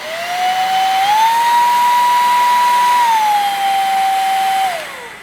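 A Greenote GSC50 cordless vacuum cleaner running at higher suction, a loud, close motor whine that climbs in pitch, holds steady, steps down slightly, then winds down at the end.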